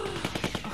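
Rapid bursts of gunfire in The Walking Dead: Season Two, a loud run of close, evenly spaced shots.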